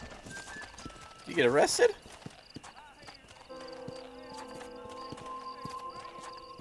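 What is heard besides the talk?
horse hooves while riding in video game Red Dead Redemption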